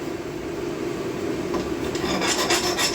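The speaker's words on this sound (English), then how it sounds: "I'm just going to take a file and kind of clean these bores up." A metal file rasps steadily against the U-joint cap bores of a 1998 Dodge Dakota driveline, a close, continuous scraping that grows louder and more rhythmic near the end, with no talking.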